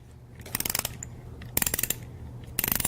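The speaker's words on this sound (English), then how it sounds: "Five half turns on one side, then you'll do 5 half turns on the other side." A wrench tightens the bolts of a Dixon Bayco aluminum groove clamp in three quick bursts of rapid ratchet clicks, each a short run of sharp metallic ticks with brief pauses between, heard close and alone.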